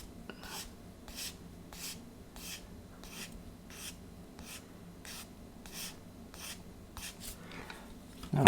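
Steady, rhythmic strokes of 600 grit abrasive sanding a 1/35 scale diorama model: about a dozen soft, quiet rasps, evenly spaced and close by, with a louder scrape at the very end.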